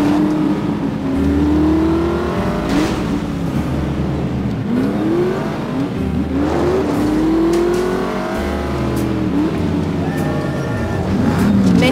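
A rental car in The Saboteur, a World War II–era video game, drives along with a steady engine drone, its pitch sweeping up and down repeatedly as gears shift and the car accelerates, loud and continuous throughout.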